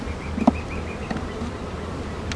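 A honeybee colony hums during a hive inspection, a soft, steady buzzing of many bees close by, with a few light knocks and clicks from handling.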